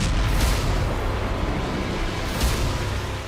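A Hezbollah rocket explodes at a building, heard as a rough, heavy roar with deep rumbling low end and a couple of sharper blasts that rise out of the continuous noise.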